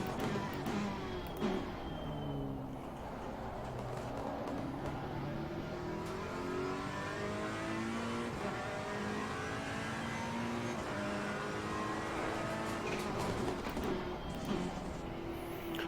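Race car engines in Assetto Corsa Competizione, with a BMW M6 GT car among them: steady engine drone with rising and falling revs and gear changes, and other cars audible nearby, fairly faint overall.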